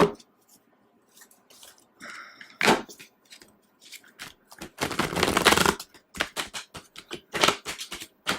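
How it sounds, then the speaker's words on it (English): Cards riffle and snap together in several bursts, with one long fluttering shuffle in the middle and scattered soft handling clicks around it. "Deck is so hard for me to shuffle"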